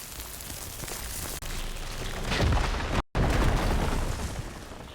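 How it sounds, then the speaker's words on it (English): An explosion goes off in Horizon Forbidden West, a loud sustained roar with a brief dropout near the end before the rumble resumes. "Let's randomly cause an explosion,"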